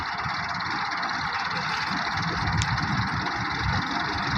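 A tractor engine idles steadily with a constant droning hum and high whine, unchanging throughout, with no talking.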